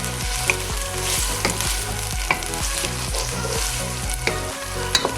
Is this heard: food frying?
yes